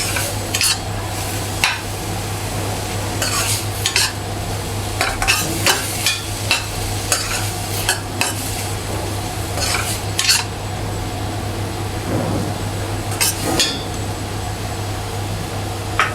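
Chopped capsicum being stirred and sautéed in a pan for pav bhaji, a continuous sizzle over a steady low hum, punctuated by frequent scraping and clinking utensil strokes.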